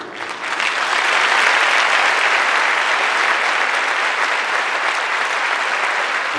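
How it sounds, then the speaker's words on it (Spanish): Sustained dense applause from a large audience at an international mining convention in Mexico, rising quickly and holding steady and loud throughout. "Quiero pedir un gran aplauso para todos ustedes"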